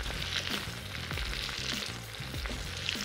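Potato pieces go into meat frying in a kazan, bringing a steady, loud sizzle of hot oil with scraping and stirring knocks throughout. No one speaks.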